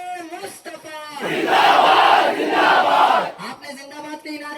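A single voice calls out a line, then a large crowd at a protest answers with a loud massed shout of a slogan lasting about two seconds, after which the lone voice resumes speaking.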